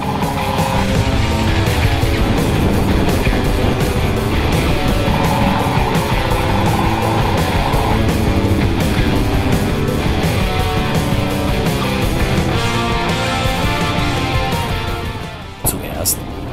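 A Royal Enfield Himalayan motorcycle rides off-road over loose ground, with the engine droning loudly and steadily for the whole stretch. A voice talks over it, and a brief jolt comes near the end.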